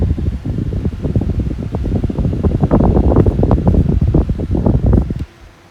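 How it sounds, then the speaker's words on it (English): A Wonder Snail Kaze Flex 1800 RPM fan blows a steady, loud rush of air that sounds like wind. It runs close up for about five seconds and then drops away abruptly. "it does move quite a lot of air for an 1800 RPM fan, so it does make some noise, but it's all really just wind noise"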